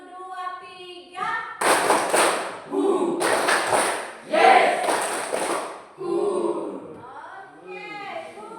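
A classroom of children claps a rhythmic spirit clap, three loud group bursts separated by short pauses and a final softer one, with the teacher speaking at the start and end.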